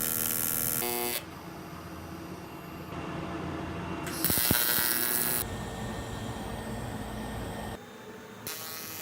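TIG welding on aluminum outside corners with a Miller Dynasty 200, sped up to double speed, gives a steady electric buzz and hum in several sustained stretches with abrupt changes in tone between them and no voices.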